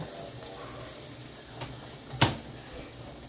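Onions frying in a pan to caramelize before gravy is made: a steady, quiet sizzle runs throughout, with one brief sharper clatter near the end.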